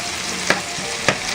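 Pork spleen sizzles steadily as it browns in a hot pan, a constant crackling hiss broken by two short sharp clinks of a utensil against the pan.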